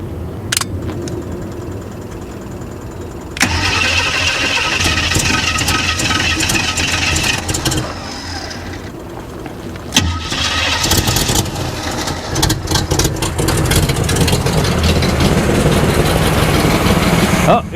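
Long-abandoned Chevrolet Monte Carlo SS, unused for 20 years, cranking and catching into a loud rough idle, the engine cutting and restarting partway through, with people talking nearby over the running engine.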